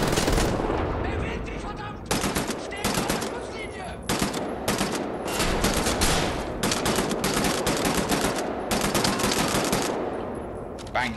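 Rapid bursts of automatic gunfire rattle in Wolfenstein: The New Order, loud and repeated in clusters, with brief gaps between them and a voice talking faintly underneath.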